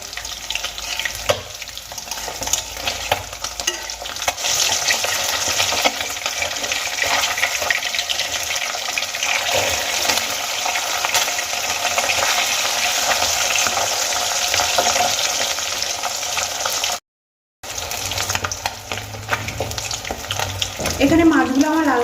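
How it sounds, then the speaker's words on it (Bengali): Fish pieces frying in oil for a Bengali-style fish curry give a loud, dense, continuous sputtering sizzle. It breaks off for a brief moment near the end, then resumes. "এবার আমি মাছগুলোকে লাল করে ভেজে নেব"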